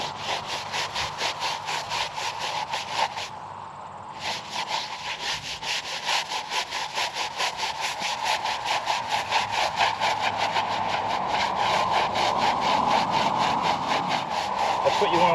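A brush scrubs back and forth over a damp, soapy gravestone in steady rhythmic strokes, close and moderately loud, with a short pause partway through.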